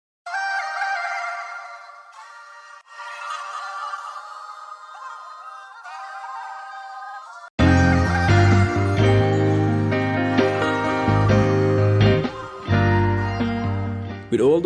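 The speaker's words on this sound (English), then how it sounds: "so I went to this VST to make a choir sound and combine that with a vocal melody line I have chopped up from Splice." A choir pad from a software instrument plays alone for about seven seconds, then a chopped vocal melody line and fuller low end join in, layered together into a dense 70s soul-style sample.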